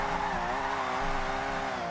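A car drifting in Forza Horizon 6, driven on a wheel, with a steady wailing engine drone and a sustained tire squeal, loud and continuous without a break.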